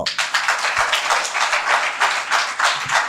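Steady, dense audience clapping at a Christian resurrection sermon, continuous and fairly loud throughout with no voices over it.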